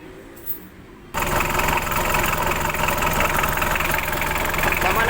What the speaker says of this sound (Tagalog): Ito na makina ng Hyundai Starex.